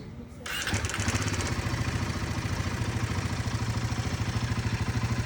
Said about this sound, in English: As soon as I start the motorcycle, the noise will come on and it persists for some time before just fading away.